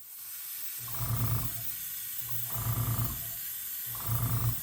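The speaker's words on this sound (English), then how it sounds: "So what I'm gonna do is I'm gonna spray up with white," Three bursts of an airbrush spraying white paint over red on pike glide bait lures, each a steady hiss lasting about a second, separated by short pauses, close and fairly loud over a faint background hiss; the airbrush is not atomizing quite right.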